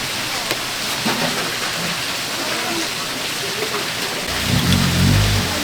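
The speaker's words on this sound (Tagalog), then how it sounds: "yung lakas ng ulan" Heavy rain pours steadily in a dense, hissing wash, with a low rumble swelling near the end.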